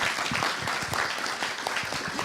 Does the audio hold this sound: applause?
yes